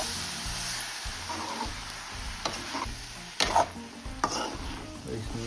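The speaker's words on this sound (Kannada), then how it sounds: "ನೀಟಾಗಿ ಈ ಥರ ಇಲ್ಲೆಲ್ಲ ಫ್ರೈ ಮಾಡ್ಕೊಬೇಕು ಸೊಪ್ಪನ್ನ." Leafy greens stir-fried in a pan for a village-style palya give a continuous soft sizzle with repeated scraping, stirring strokes and a few sharper clanks of the spatula against the pan.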